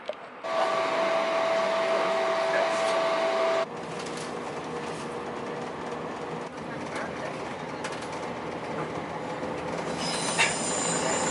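A steady loud rumble of a train rolling on rails from inside a carriage, with a high squeal early on and a shift in tone partway through.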